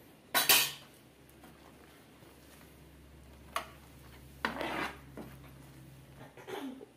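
A spoon stirring a thick cough candy mixture of jaggery, rice flour and black pepper in a pan, with a few sparse metallic clinks and scrapes against the pan in a quiet room.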